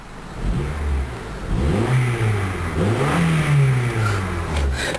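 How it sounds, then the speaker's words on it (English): A 2004 Honda Accord LX car engine revs up repeatedly, rising and falling in pitch, loud and close, with no talking. "Very nice sounding car."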